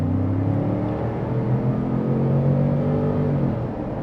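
A 2025 Ford Expedition Tremor SUV accelerates at about half throttle, its engine rising in a steady smooth rumble heard from inside the cabin, fading slightly at the end.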